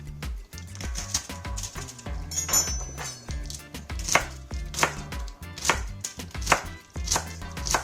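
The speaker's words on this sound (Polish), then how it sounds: "Łodygi kroję na dosyć drobną, też w sumie kostkę." A knife dices beet stalks into small cubes on a cutting board, making a steady run of crisp, close chopping taps with brief pauses, no talking.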